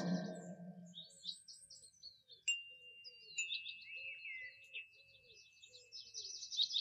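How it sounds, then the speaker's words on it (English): Several small birds chirp and tweet around a lake, a string of thin high calls and short trills that are faint and scattered over a quiet background. "there are birds."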